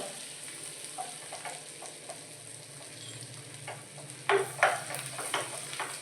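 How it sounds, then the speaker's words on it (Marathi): Garlic sizzling in butter in a pan for a dal tadka: a soft background sizzle broken by scattered spatters and a few sharper pops near the end, close by, with no speech. "डाळीला तडका देण्यासाठी बटर घेतला आहे तडका पॅनमध्ये लसूण टाकून घ्यायचा"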